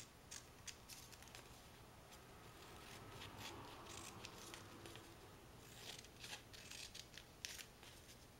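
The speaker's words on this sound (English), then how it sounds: "we're just going to cut strips here that are, not too thin" Scissors cut folded paper into strips for a traditional Tanabata fishing net: crisp snips in irregular bursts, close and fairly quiet over a soft hiss.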